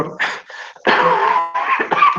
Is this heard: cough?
yes